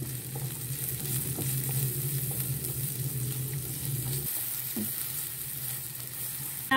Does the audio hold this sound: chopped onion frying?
yes